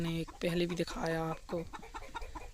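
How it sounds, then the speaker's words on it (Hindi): A brooding mother hen on a desi chicken farm clucks in several close, loud, drawn-out calls, with someone talking over and between them. "ये बच्चे वाली मुर्गी है"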